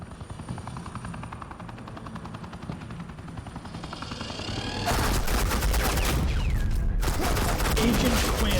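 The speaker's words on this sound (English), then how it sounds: "Suppressing fire." Suppressing gunfire in Batman: The Enemy Within, a helicopter's steady whir running throughout before dense rapid automatic shots burst in loudly and continue to the end.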